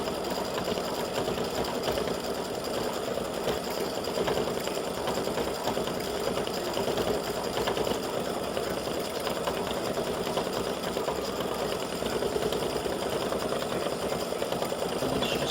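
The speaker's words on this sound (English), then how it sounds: "Doing a running stitch around it to secure it down to all the stitches" An embroidery machine sews a running stitch around a four-leaf clover design for earrings, a steady rapid mechanical whirring that carries on unbroken throughout without pause.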